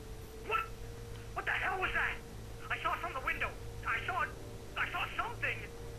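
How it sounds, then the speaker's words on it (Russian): A telephone rings in the video game Alan Wake: repeated bursts of bright electronic trilling at a steady rhythm, with a low steady hum underneath. "кто-то звонит"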